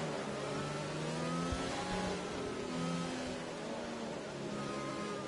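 Race cars lap the Zandvoort circuit in a racing video game, several engines droning steadily with gentle rises and falls in pitch, the sound continuous and fairly dense throughout.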